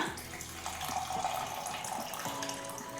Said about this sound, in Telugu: నేను కొంచెం హాట్ వాటర్ తాగుతాను అందుకోసమని వేడి నీళ్ళే పోసుకుంటున్నా